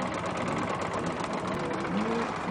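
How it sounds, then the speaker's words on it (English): Drag bike motorcycle engine running steadily and close, a continuous buzzing drone with a busy rattling texture and no pauses. "this is my drag bike"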